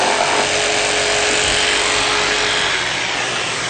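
A saw cuts through softwood with dust collection running, giving a steady, loud whirring drone that continues without a break.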